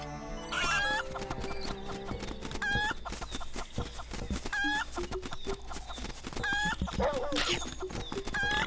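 A chicken in the video game Link's Awakening clucks repeatedly in short, bright squawks over continuous game music and effects, loud and close.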